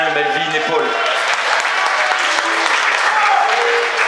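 Concert audience applauding the percussion section of an orchestra, dense sustained clapping filling the room, loud and close, following a few sung or played notes at the very start.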